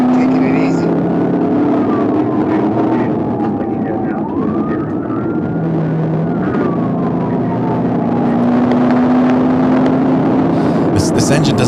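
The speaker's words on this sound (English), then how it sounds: "This engine doesn't sound as smooth as it did when we started" Car engine running in a police chase video game, a continuous droning hum with a faint wailing siren sweeping over it, loud and steady throughout the stretch.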